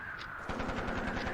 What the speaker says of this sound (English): Heavy artillery, machine guns.